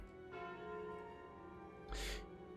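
In the video game Slay the Spire, a calling bell rings with a sustained, faint metallic chime, then a brighter struck tone about two seconds in.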